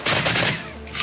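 Rapid gunfire in the Minecraft WW2 game Heroes & Generals, a steady burst of machine-gun shots that fills the whole second at close range with no talk over it.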